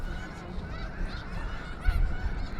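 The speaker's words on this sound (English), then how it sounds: "The snow geese who come here are known as the Fraser Skagit flock" A Fraser Skagit flock of snow geese honks continuously in a dense, overlapping chorus from a large group, steady and moderately loud with a low rumbling background.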